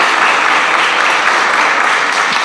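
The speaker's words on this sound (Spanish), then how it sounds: "esto también merece un aplauso" A large audience at an event on trans people's rights in the city bursts into loud, sustained applause, a dense unbroken roar of clapping from many hands.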